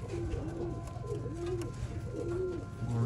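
Several old line pigeons coo in repeated low, rolling phrases, close and steady, over a constant background hum with a few faint chirps, at a pigeon sale in Bangalore.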